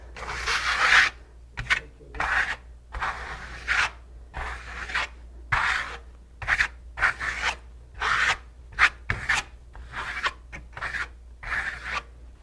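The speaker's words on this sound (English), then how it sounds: "see if you need to scrape off any more areas" Repeated rasping scrapes across a hard surface, about a dozen short strokes in an uneven rhythm, close up and fairly quiet.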